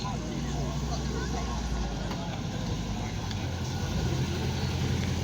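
A Chevrolet Corvette sits at an outdoor car meet with a low, steady engine rumble and a broad outdoor wash, while a person talks over it.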